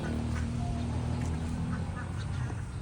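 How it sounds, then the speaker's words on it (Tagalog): A flock of ducks on a farm quacks steadily close by, their calls mixed with a low background rumble. Faint voices come and go under the quacking. "O oh, yan, ang daming bibi oh."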